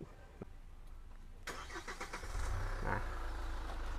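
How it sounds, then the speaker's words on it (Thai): A car engine, remote-started by phone, cranks and catches, then settles into a steady low idle, heard close by from outside the car with no talking. "ตัวนี้สามารถใช้โทรศัพท์นะครับ กดสตาร์ทเครื่องนอกรถ"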